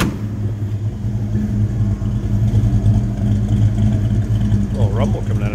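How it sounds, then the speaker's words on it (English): A 1940 Ford Coupe street rod with a 396 engine idles with a steady, deep low rumble. The sound stays close and continuous, and someone is heard speaking briefly near the end. "A little rumble coming out of that 396"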